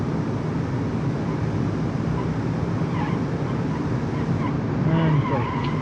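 A car in the driving game BeamNG.drive accelerates hard, with a continuous engine roar held at a steady level and a brief tire sound near the end.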